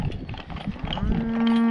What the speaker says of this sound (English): And the cows are right here,